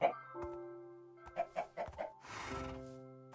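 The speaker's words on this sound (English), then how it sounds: "There's a whole mess of chickens here." Chickens in the video game Monifactory give a few short, clear clucks in an uneven rhythm, close by, over soft tonal background music, with a brief breathy noise near the end.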